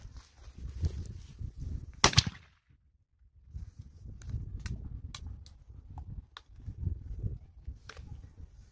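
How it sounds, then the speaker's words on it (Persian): A single sharp blast from a Russian single-barrel shotgun cracks out once, loud against a quiet background of low rustling and handling noises. "بریم شلیک انجام بدیم ببینید چی میشه"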